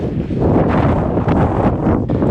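Strong wind gusting steadily across a microphone high in the Croatian mountains, a loud continuous roar and buffeting with no pauses.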